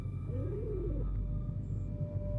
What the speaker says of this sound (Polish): O, wybaczcie, akurat gołąb